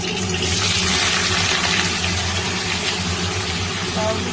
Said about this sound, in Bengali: এরপর আমি এর মধ্যে দিচ্ছি কেটে রাখা লাউগুলো